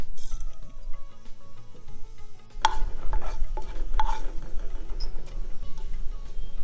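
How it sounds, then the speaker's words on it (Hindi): Fenugreek seeds hit hot oil, bursting into a crackling sizzle after a quiet start, with metallic clatter and stirring scrapes over a low hum. "हमारा तेल गर्म हो चुका है। हम इसमें सबसे पहले मेथी डालेंगे।"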